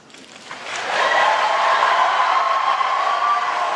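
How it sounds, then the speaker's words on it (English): An audience at a presidential debate breaks into applause that swells within a second into a dense, steady wash of clapping and holds at full strength until the end. "Can we please hold the applause?"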